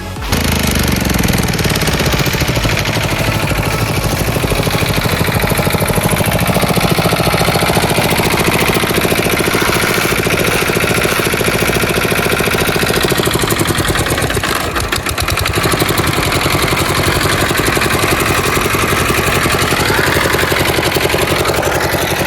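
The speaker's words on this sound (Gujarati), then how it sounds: "આ આપણો મશીન ચાલુ થઈ ગયો છે પાણીનું" An engine-driven water pump machine on a Gujarat farm runs loudly and continuously at close range, a steady throbbing mechanical drone with rapid knocking pulses and no break.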